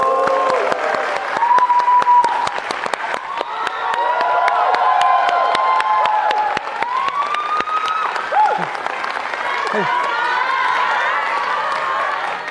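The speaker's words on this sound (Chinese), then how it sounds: "掌声有请" A live comedy theater audience gives sustained applause with cheering and whistles as two crosstalk performers come on stage, loud and dense throughout, and a voice calls out over it.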